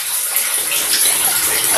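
Water drains from a geyser tank and falls into a bucket below, a loud, steady gushing splash that holds constant throughout with no speech.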